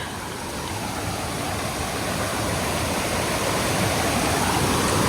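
The fast-moving outlet stream of a beaver pond on the Appalachian Trail in New York rushes in a dense, steady roar close by, growing slightly louder throughout, with no voices.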